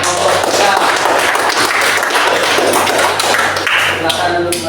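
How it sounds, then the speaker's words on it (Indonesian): Classroom applause for a presenting student group during an Indonesian Islamic education teacher-training session, loud dense clapping filling the room for several seconds with voices mixed underneath. "berikan tepuk tangan untuk kelompok kita"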